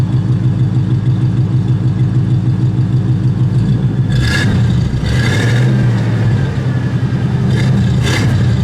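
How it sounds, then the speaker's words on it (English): A 1941 Cadillac custom limousine engine idles with a low steady rumble, then is revved twice, with short rising bursts before it settles back to idle. "give it a rev, Steve."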